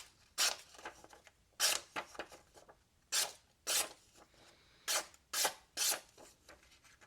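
Blade of a USA-made folding EDC knife in 20CV steel slicing paper, with a series of about nine quick, crisp rasping cuts at an uneven pace, close and quiet with no talk.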